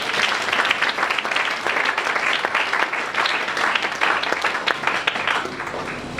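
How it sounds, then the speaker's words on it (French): Church congregation clapping loudly together, a dense, steady wall of applause filling the room for the full stretch without pause. "Acclamons très fort pour le Seigneur."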